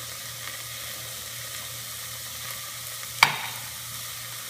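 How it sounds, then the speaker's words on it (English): Vegetables and garlic sweat gently in olive oil over low heat with a soft, steady sizzle, and a single sharp utensil clack against the pan near the end. "So keep the heat low and continually stir the vegetables."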